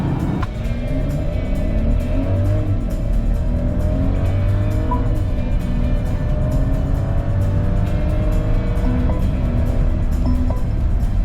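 A 2024 Mercedes-Benz GLS 450 petrol SUV accelerating flat out from 0 to 100 km/h, its engine note rising steadily through several gearshifts, loud and close from inside the cabin with road and wind noise throughout.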